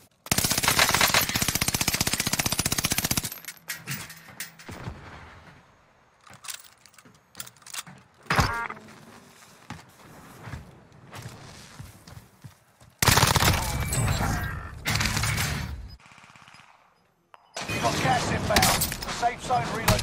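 Bursts of automatic gunfire in a video game, loud in several separate volleys with quieter gaps where players talk.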